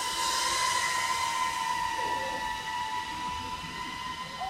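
A steady high-pitched whine of small electric FPV drone motors (Gepard Sinbot 30 on a 4S 1500 mAh battery) hums continuously at a distance in a yard, over faint background noise with a slight pitch wobble.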